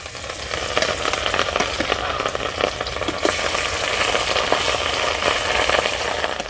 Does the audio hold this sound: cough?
no